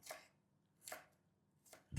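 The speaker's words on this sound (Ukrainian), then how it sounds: "нарізаю імбир ось такою соломкою." Knife chopping ginger into strips on a cutting board, three quick separate cuts spaced about a second apart, crisp and close, with a heavier thud at the end.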